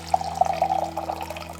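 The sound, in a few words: hot water pouring from DIY Peltier water dispenser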